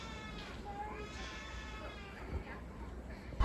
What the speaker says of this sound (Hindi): क्योंकि अव्युक की रोने की आवाज़ आ रही है